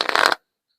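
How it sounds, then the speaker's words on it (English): A deck of playing cards being shuffled up close in a quiet room, a brief riffling burst lasting about a third of a second before cutting to silence. "When I'm talking, I'm constantly shuffling"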